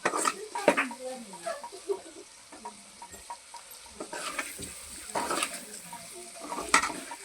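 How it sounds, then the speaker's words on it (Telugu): Beef liver curry sizzles gently in oil while a spoon scrapes and stirs the pan, with intermittent clinks of metal on cookware, close up and fairly quiet. "అన్నీ వేసి ఇలా కలుపుకొని ఒక 5 నిమిషాలు నూనెలో మగ్గనివ్వాలి."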